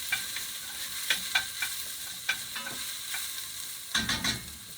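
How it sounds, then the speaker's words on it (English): Onions sizzle and fry in a pan on a home stove while a utensil stirs them, giving a steady soft crackle broken by several sharp scraping clicks, close and unaccompanied by talk. "I'm just going to mix up these onions."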